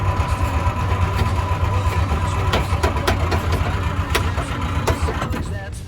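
A 1950 Ford F1 parts truck that has sat for years cranks over with primed fuel in the carburetor, a loud rhythmic churning drone with sharp clicks and knocks as the engine tries to fire.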